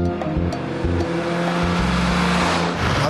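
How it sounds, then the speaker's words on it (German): Mercedes 300 SL gullwing classic car on a short test drive, its engine droning steadily and loud throughout, with rising and shifting engine tones and a brief tire noise. "Gerade unternimmt er eine kurze Testfahrt, um einen seiner SL zu überprüfen."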